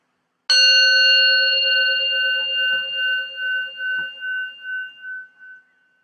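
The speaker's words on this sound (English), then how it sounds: "So for now, I'm going to start with a gong." A gong struck once at the start of a meditation, ringing out with bright sustained tones that slowly pulse and fade over several seconds into silence.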